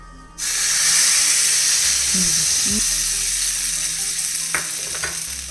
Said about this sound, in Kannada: ಎಣ್ಣೆ ಕಾದಾದಮೇಲೆ ಒಂದು ಸ್ವಲ್ಪ ಸಾಸಿವೆ ಸ್ವಲ್ಪ ಕರಿವೇವಿನ ಸೊಪ್ಪನ್ನು ಹಾಕಿ